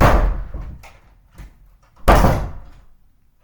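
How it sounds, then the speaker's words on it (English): Door slamming indoors: two loud, sharp slams, one at the start and another about two seconds later, with softer thuds and knocks between them and no talk. "We're slamming doors, I guess."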